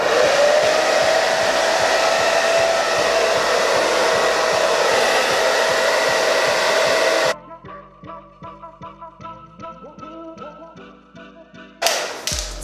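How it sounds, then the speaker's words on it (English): A handheld blow dryer blows air onto a wig with a steady, loud whoosh for about seven seconds, then cuts off. Quieter taps and handling sounds follow, and a short burst of air comes near the end. "I'm gonna just again take my blow dryer and just shoot it again with some air really quick"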